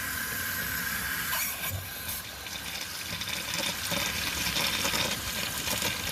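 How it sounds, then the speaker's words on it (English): Water running steadily from a clothes steamer hose into a sink during descaling with vinegar, a continuous close splashing flow with no talk. "I'm going to turn it on. And this really flushes out that hose."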